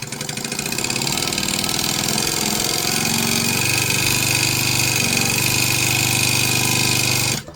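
A sewing machine runs fast and steadily, stitching a seam and then back stitching, a loud, continuous motor whir with rapid needle chatter that holds for about seven seconds before stopping abruptly.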